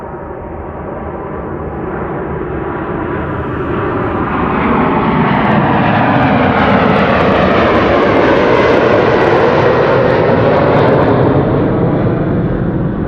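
Delta Airlines jet departing Amsterdam Schiphol Airport on a sunny winter day, a loud sustained engine roar that swells and holds steady as the aircraft climbs away, with no voices.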